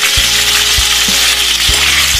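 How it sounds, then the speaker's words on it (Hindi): Tomatoes and other vegetables frying together in a kadhai, a loud, dense sizzle with a few low knocks of a spoon against the pan. "और इसमें टमाटर भी साथ में फ्राई कर लें।"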